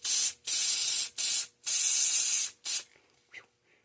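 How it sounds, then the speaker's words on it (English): An aerosol cleaner is sprayed inside a car in five sharp, close hissing bursts of varying length, followed by a few faint rustles. "So I'm going to spray a little bit more of this."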